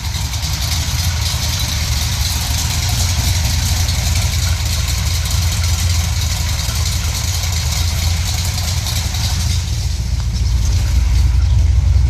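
A 451 stroker big-block engine with a big cam in a 1973 Plymouth Satellite idles loudly and steadily up close, with a deep rumbling, lumpy throb that holds constant throughout.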